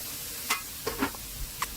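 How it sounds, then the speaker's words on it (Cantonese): Wood ear fungus being stir-fried with garlic in a hot wok, giving a soft steady sizzle broken by a few scattered clicks and scrapes of the spatula, close by with no talking. "將佢炒多一陣"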